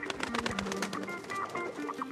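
Pigeons coo in soft, rolling, repeated calls that overlap and waver, fairly close, over a quiet background with slight murmuring.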